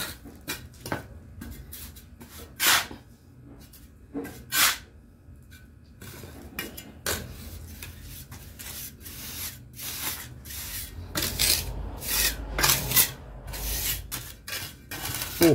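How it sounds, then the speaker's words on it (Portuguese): Repeated tapping and scraping of a metal trowel handle compacting wet mortar into a corner block mould, with irregular knocks and gritty scrapes, close and fairly loud, growing busier toward the end. "compacto com o cabo da colher mesmo"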